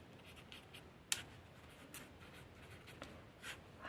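A pen writes out a maths question on a matrix, giving soft, faint scratching strokes with sparse light taps, close and otherwise quiet.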